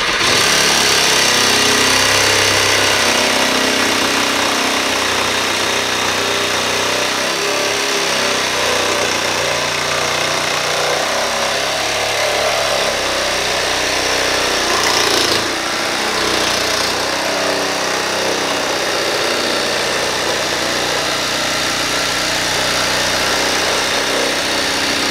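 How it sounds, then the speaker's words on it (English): A 12-volt Milwaukee sawzall cuts through dust collection pipe with a loud, steady mechanical buzz that holds close and nearly constant for about twenty-five seconds, and no one speaks. "this is how easy this is to cut with a sawzall"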